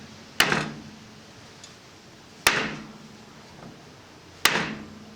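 Three evenly spaced hammer strikes, about two seconds apart, drive key rail pins into a 130-year-old piano being rebuilt, each a crisp close knock with a brief ringing decay over quiet room tone.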